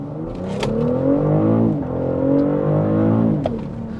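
A 2024 BMW X6 xDrive 40i launches hard from inside the cabin, its engine revving up through rising sweeps with brief dips at gear changes, loud and steady with no talking.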